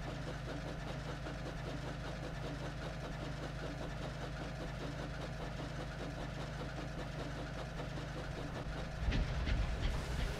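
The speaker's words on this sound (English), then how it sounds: "The engine was put into steam and trundled eagerly to the waste dump." A steam engine rolls along a railway line with a steady low rumble and a rhythmic clatter of wheels, moderately quiet and continuous, with a brief louder burst near the end.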